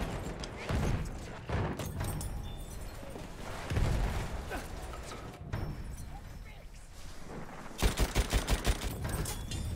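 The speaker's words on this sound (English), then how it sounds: "Machine gun, hostile." Battlefield 1 machine gun fire: a distant, muffled battle rumbles underneath, then a sharp burst of rapid rhythmic shots punches in near the end, with someone talking over the noise.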